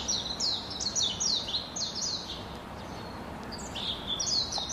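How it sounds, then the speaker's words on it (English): Birds chirp outdoors in North Central Oklahoma, rapid bursts of high tweets in quick runs with short pauses between, fairly close and clear over a soft steady background hiss. "Birds."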